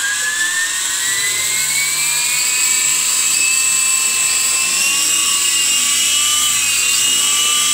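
Remote control RAH-66 Comanche model helicopter in flight, its loud, steady electric motor whine rising gradually in pitch, with a constant rotor buzz close by and no talking.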